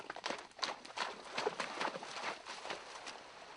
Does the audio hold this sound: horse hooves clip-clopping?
yes